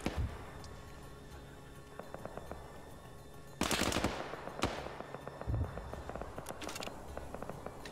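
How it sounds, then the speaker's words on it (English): Machine gun fire in the military game Arma 3: short distant bursts of rapid rattling shots, broken by a few louder nearby reports and fuller volleys. "Now machine gun's now firing at him."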